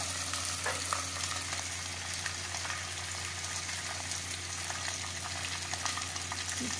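Khichri ingredients fry in a pan, an even quiet sizzle with light crackles running throughout and no talking.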